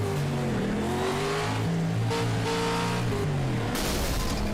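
A race car engine in the iRacing video game failing from over-revving, its engine note rising and sagging in pitch before dropping away, heard from onboard as a loud, continuous drone.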